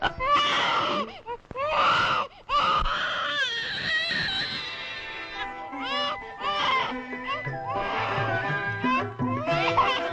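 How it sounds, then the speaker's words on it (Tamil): An infant cries and wails in loud repeated bursts, close and piercing, with brief pauses between sobs, set in a Tamil historical drama about Rajaraja Chola. "நான் வேலை கவனத்தில் குழந்தை அழுவதை கவனிக்காமல் இருந்து விட்டேன்."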